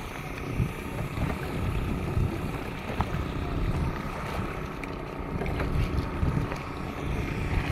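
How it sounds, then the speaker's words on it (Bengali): A gentle breeze blows across Patenga sea beach in the late afternoon, a soft rumbling wind buffeting the microphone with steady low roar and occasional gusts, no voices. "মৃদুমন্দ বাতাস"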